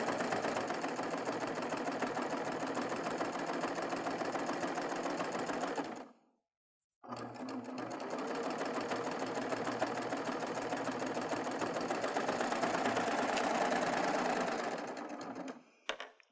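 A serger runs a flatlock stitch along a fabric edge, a fast, steady, close whirring drone that cuts out for about a second midway and then resumes. Nobody speaks.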